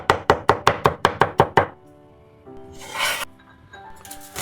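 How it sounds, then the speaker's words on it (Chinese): Three crushed garlic cloves are minced with a knife on a cutting board in a fast, even run of about nine sharp chops, followed by quieter scraping and a brief rustle. "3瓣蒜拍碎，然後將蒜切碎。"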